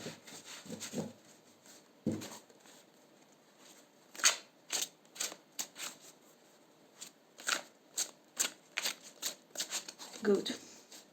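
Tarot cards are handled and shuffled close by, producing a series of quick, crisp flicks and slides at irregular intervals, fairly quiet, with soft speech in places.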